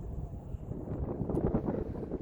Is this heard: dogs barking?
no